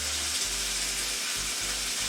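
Beef going into a hot pan for a stir fry gives a steady, hissing sizzle, loud and close, with a low rumbling hum of the stove underneath that briefly cuts in and out.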